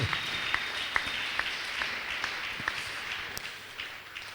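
Church congregation applauding, a steady wash of many hands clapping at moderate distance, fading slightly toward the end.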